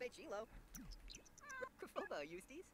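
A cat meows repeatedly inside a Sims life-simulation game, its calls rising and falling over several short bursts at moderate loudness, with no talk over it.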